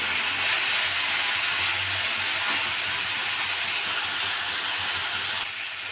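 Potatoes and chickpeas frying in a pan, a loud continuous close hiss of oil sizzling that holds steady throughout and drops slightly at the end, with no talk.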